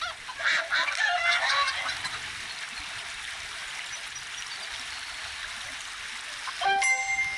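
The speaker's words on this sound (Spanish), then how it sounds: "ya se van las gallinas, se van solas" Chickens cluck and honk in the FarmVille 3 farming game, a busy flutter of bird calls over a soft running-water backdrop, with a short bright chime near the end.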